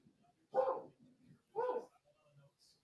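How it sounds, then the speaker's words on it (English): Two distinct barks from a dog sound about a second apart, moderately close in a quiet indoor room, with faint low murmurs in between. "There's a dog barking, but we don't have a dog."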